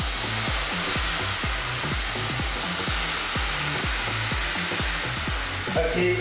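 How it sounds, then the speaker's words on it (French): A crêpe fries in bacon fat in a pan, giving a steady loud sizzle with a regular popping, bubbling pulse throughout and a brief clatter near the end. "ils faisaient cuire leurs crêpes dans du gras de bacon"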